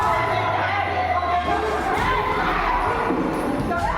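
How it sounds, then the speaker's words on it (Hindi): Screaming and shouting during a brawl at a wedding guest house between the groom's and bride's sides, women among them, a dense continuous roar of yelling voices, loud and chaotic throughout. "मारपीट में चीख पुकार मची हुई है।"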